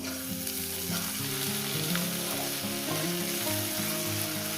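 Egg frying with snake gourd in a pan, a steady close sizzle with occasional stirring, while a musical tone pattern plays underneath.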